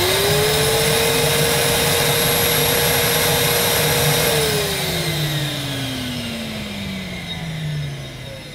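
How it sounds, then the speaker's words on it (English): Henry HWD370 wet and dry vacuum cleaner with a 1000 watt motor runs loud and close with a steady, high motor whine, then its pitch sinks gradually as it winds down. "let's see what Henry Wet and Dry can do with a 1000 watt motor"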